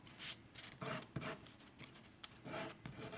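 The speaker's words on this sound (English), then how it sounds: "you're going to lightly sand it." A miniature wooden barn door is lightly sanded by hand with sandpaper, giving soft, quiet rasping strokes in an uneven back-and-forth rhythm, close and alone.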